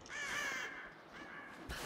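A crow in the Rise of the Tomb Raider video game gives a harsh, drawn-out caw, then a second shorter call, loud and close with no talking.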